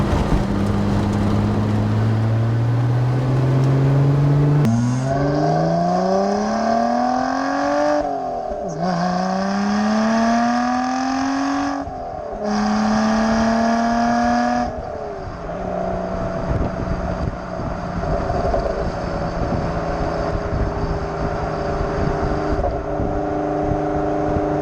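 Lotus Exige Sport 350 with its 2016 V6 engine induction roaring loud and close while driving, rising in pitch through several gears with brief lifts between pulls, then settling into a steady cruising drone.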